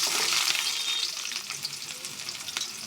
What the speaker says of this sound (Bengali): পেঁয়াজ কড়াইতে তেল দিচ্ছি, তেল গরম হয়ে গেছে, পেঁয়াজ কুচি দিয়ে দিলাম।